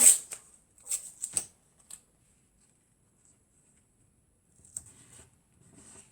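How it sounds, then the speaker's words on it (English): Tape being pulled and pressed onto drawing paper for a pastel drawing, several sharp crisp ticks and rips close by in the first two seconds, then silence and a few faint rustles. "So I'm going to put my tape on there."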